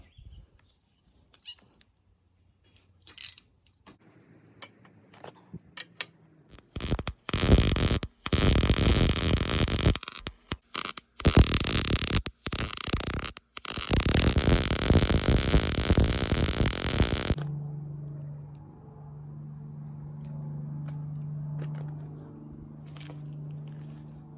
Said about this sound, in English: I'm going to weld some end caps on here too.